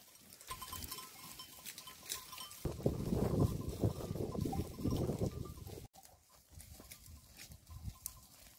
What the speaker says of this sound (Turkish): Keçilerimiz yeşillik alana koşuyor.